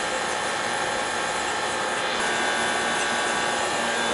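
The burner of a gas water heater that had been flooded under four feet of water fires up with a loud, steady, broad roar that holds evenly throughout.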